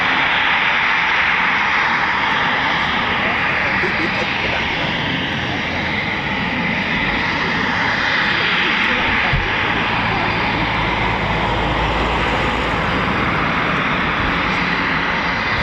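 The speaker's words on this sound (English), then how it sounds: "the latest and greatest aircraft flown here at Coningsby, the Typhoon" A Eurofighter Typhoon FGR4 jet at RAF Coningsby roars loud and unbroken for the whole stretch, a broad steady engine rumble with a rushing hiss on top.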